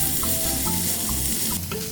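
Pork belly sizzles in a pan in its own fat for yakisoba. A steady, close frying crackle runs throughout with a few light clinks of stirring.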